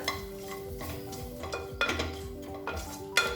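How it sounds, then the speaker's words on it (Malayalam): Spices with turmeric and salt stirred in a pan for Malabar coconut rice, a quiet run of metal spoon clinks and scrapes against the pan, with sharp irregular taps over a soft sizzle. "ഇതെല്ലാം കൂടി ഒരു 2 മിനിറ്റ് നമുക്ക് വഴറ്റി കൊടുക്കാം"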